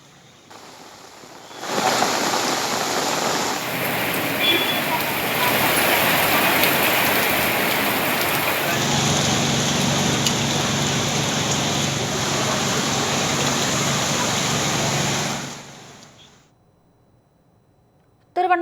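Heavy rain pours down in Tiruvannamalai district, a loud, dense roar of water that swells after a couple of seconds, holds steady, then fades out near the end, with no one speaking.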